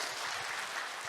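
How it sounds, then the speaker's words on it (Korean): Audience at an academic session of a peace conference applauds two presenters, a brief, even burst of many hands clapping at moderate volume with no talk over it. "여러분 지금 발표해 주신 두 분께 박수를 좀"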